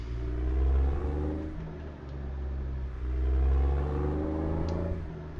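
A heavy diesel truck engine with a Detroit Series 60 in American Truck Simulator drones and rumbles, swelling and easing in long surges as it revs through gears, with no talking.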